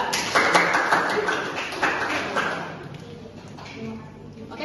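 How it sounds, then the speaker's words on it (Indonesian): Pupils in a classroom clapping for a student group during a mathematics lesson: a burst of many hands clapping at a lively rhythm that fades after a couple of seconds into quieter room noise and voices. "Nah, kita kasih tepuk tangan untuk kelompok yang kedua."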